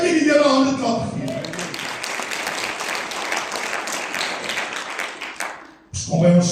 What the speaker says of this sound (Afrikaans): Kan jy die Here hande klap gee?